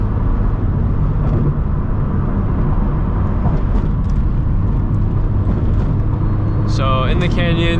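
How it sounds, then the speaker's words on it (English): A passing car on a canyon road, heard from inside a turbocharged Subaru BRZ, as a steady broadband road and engine roar with a brief higher whine near the end. "Just gonna let this car pass first."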